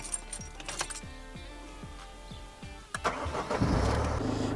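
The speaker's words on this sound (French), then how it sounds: "Donc, démarrer le moteur." A Toyota Hiace 4x4 engine starts with a run of rhythmic starter-motor cranking pulses. It catches at about three seconds into a steady, louder idle, close by.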